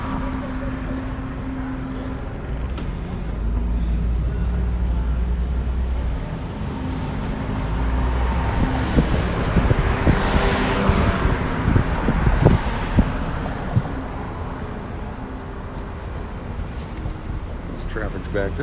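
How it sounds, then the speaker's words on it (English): Backed-up road traffic on a Las Vegas street on a Sunday afternoon, heard from inside a moving car as a steady engine and road rumble with passing vehicles and occasional thumps and bumps. "This traffic's backed up"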